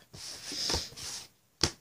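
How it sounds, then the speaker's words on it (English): A long, breathy sniffle through the nose from a cold or sinus congestion, then a short, sharp sniff after a brief pause, close to the microphone. "So sorry about the sniffles."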